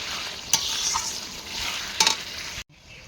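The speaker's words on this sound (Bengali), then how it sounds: "দিয়ে একটু নাড়াচাড়া করে নামিয়ে নেব" A vegetarian curry of brinjal, potato and Malabar spinach berries with three green chillies sizzles softly in a pan, with two brief scraping stirs against the metal before the sound cuts off; close, no voices.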